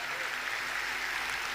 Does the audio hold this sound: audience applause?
yes